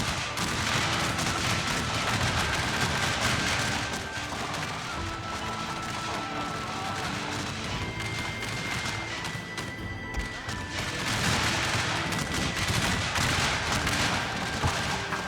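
Musket volleys and artillery fire boom across a Civil War battle video game set at First Manassas, a dense, continuous roar of gunfire with heavy blasts layered over steady background music.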